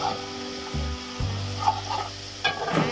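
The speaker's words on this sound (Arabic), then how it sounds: "طبعا يتفرقعان ويتلبلبان ويتحمصان ويتفرقعان" Garlic and peppers fry in a hot pan, sizzling steadily close up with scattered pops and bursts of crackling, and no voices.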